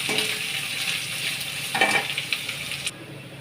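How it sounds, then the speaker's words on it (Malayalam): Cabbage and beans being tossed in a hot pan for a noodle stir-fry: a continuous close sizzle with brief utensil scrapes and clinks, ending abruptly. "എല്ലാം കൂടെ നന്നായിട്ട് ഇളക്കി നമുക്ക് തട്ടിയെടുക്കാം."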